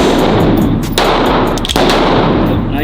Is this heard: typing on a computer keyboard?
no